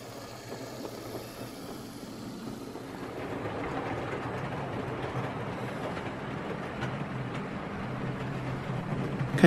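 A model railway Class 60 diesel locomotive, Brush-built, rumbles with a steady engine drone and rail noise that gradually grows louder and nearer over several seconds.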